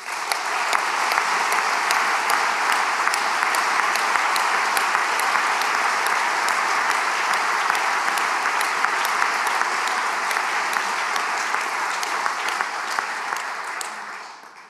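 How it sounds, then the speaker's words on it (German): A room full of people applauds steadily for the whole stretch, a dense even clatter of hands that tapers off at the very end, at a company's annual general meeting. "Ich bitte um Applaus."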